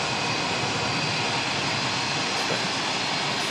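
A Jetstar jet airliner's engines churn steadily in the background at Auckland Airport, a continuous broadband roar holding even loudness throughout with no talk over it.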